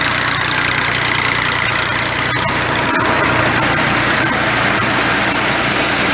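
A Massey Ferguson tractor engine runs steadily close by on a maize harvesting job, a continuous mid-to-low idling drone with some knocking texture and no talk over it.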